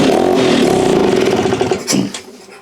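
A Vespa PX125 scooter engine from a junkyard restoration project running rough and loud right after starting, with a steady buzzing drone that sputters and fades toward the end.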